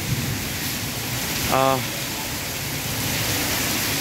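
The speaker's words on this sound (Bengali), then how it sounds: "আজকে বৃষ্টি হচ্ছে" Steady rain pours over flooded streets and overflowing drains during hot weather, a constant broadband hiss throughout with a brief tonal chirp partway through.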